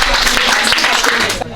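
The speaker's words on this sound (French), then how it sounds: "On applaudit." Audience applauding at a Saint Valentine's 2024 celebration with a women's association, a dense burst of clapping mixed with voices and music, loud and close, lasting under two seconds before trailing off.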